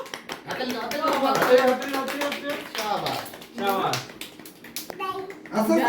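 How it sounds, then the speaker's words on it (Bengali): Hands clapping together at a children's birthday celebration after the birthday song, a fairly close, irregular patter of claps mixed with children and adults talking and calling out throughout. "ইয়ে হাততালি মারো"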